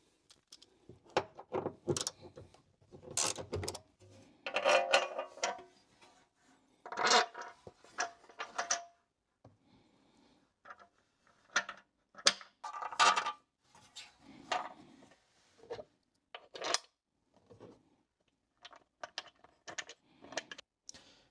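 Bolts for a cargo basket over an inverter on an Ineos Grenadier are fitted with a 5mm hex key, giving sharp metallic clicks and rattles in irregular bursts with short quiet gaps, close and clear.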